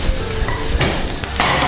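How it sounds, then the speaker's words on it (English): Thyme frying in a pan on a home cooking show: a close, steady sizzle with a few light clinks and scrapes of utensils against the pan. "I'm just going to fry this off."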